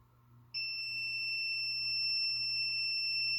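Comic book pressing machine sounding a steady, piercing electronic beep that starts abruptly and holds continuously at a constant pitch over a low background hum, loud and close.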